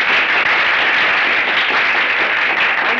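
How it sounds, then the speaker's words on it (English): Audience applause for a snooker player being introduced before a cue match, a dense, steady wash of clapping that fills the whole moment at close range, with no voices over it. "On my left, Tom Webster. Applause"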